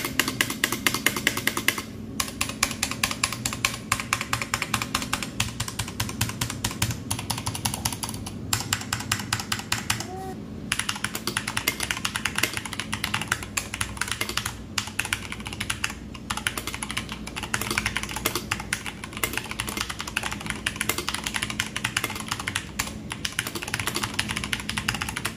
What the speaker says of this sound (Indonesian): Keyboard Soundtest.